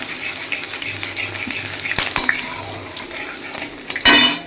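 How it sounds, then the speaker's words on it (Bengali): Ginger and garlic stirred together in a hot pan, with a low sizzle beneath repeated scraping and clinking of a spoon against the metal and a louder clatter near the end. "দুটো একসাথে দিয়ে একটুখানি নাড়াচাড়া করে দিতে হবে যাতে এর কাঁচা গন্ধটা চলে যায়"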